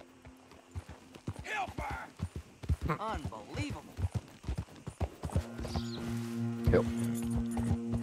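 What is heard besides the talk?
horse hooves clip-clopping while riding in Red Dead Redemption 2 video game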